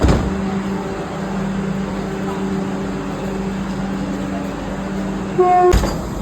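The Bhagalpur Vande Bharat Express pulls out of Bolpur station with a steady rumble and a humming drone, then a loud horn blast sounds just before the end.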